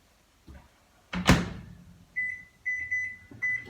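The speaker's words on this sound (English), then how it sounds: "we're going to throw this back in the microwave" A microwave door thumps shut, then a series of short electronic beeps sounds as buttons are pressed.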